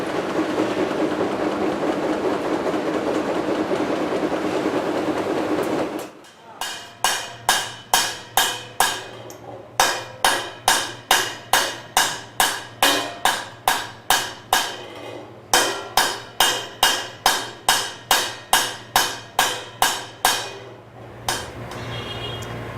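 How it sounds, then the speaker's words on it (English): Automated machines at the SABIAN cymbal factory strike metal cymbals in fast, evenly spaced bursts of sharp, ringing blows, separated by brief pauses, over a steady mechanical hum, with denser noise at the start. "Now these machines can be set as to how hard they hit"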